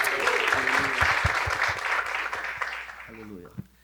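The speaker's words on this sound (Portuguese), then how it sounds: "Vamos receber esse homem de Deus com uma vibrante salva de palmas" Church congregation breaking into lively applause, dense clapping that gradually thins out while a voice speaks over it and near the end.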